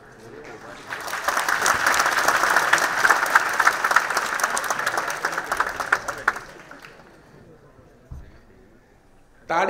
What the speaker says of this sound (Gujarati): તાળી જ્યાં જરૂર હોય ત્યાં જ પાડવી